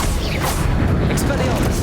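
A Confringo fire spell explodes in the Hogwarts Legacy video game, a loud booming blast with crackling debris and rumble, mixed under a shouting voice.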